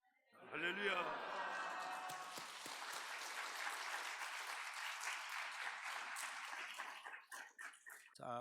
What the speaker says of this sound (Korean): 우리 할렐루야 하고 우리 환영하며 박수합니다